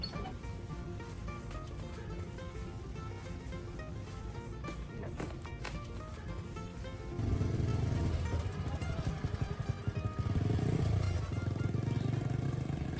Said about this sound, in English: As the motorbike rolled down the road